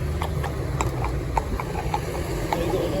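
A mini cob horse walks on a hard surface, its hooves giving a regular clip-clop of close, distinct knocks over a steady low rumble of outdoor background noise.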